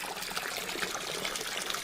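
Water conjured by magic in an anime pours steadily into a bath, a continuous close rushing trickle that stays even and unbroken from start to finish.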